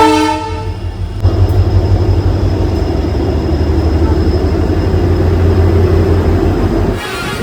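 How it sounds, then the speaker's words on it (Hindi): A train arrives slowly on tracks under repair near a riverside ghat, opening with a long blaring horn and then a steady, heavy rumble of wheels and cars rolling close by, with the horn returning at the end. "आपसे बातें करते करते रेल आ भी गई है"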